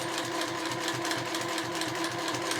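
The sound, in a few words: sewing machine stitching fabric for a glasses case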